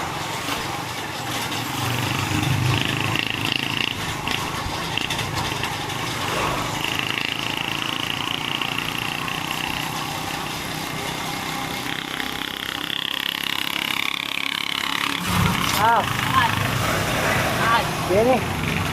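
A welding machine runs steadily during welding work, a continuous engine-like drone with a buzzing hum throughout, loud and close, while people talk over it.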